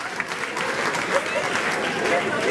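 At a comedy club show, a live audience breaks into applause, a dense, moderately loud patter of clapping that continues throughout with a few voices mixed in.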